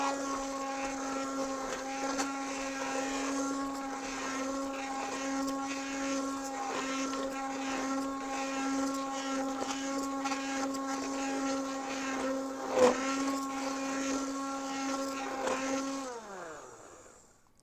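A blender runs steadily for about sixteen seconds puréeing roasted bell pepper soup, a loud even motor whine with rattling contents, then spins down to a stop.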